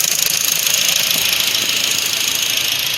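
Honda K20Z3 car engine idling after a timing chain replacement, a steady, even mechanical hum with a faint rhythmic pulse, close and continuous throughout.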